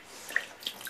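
Water pours and splashes while a baby's hair is washed with shampoo: a soft, steady trickle with a few small splashes and drips, close and quiet, with no talk.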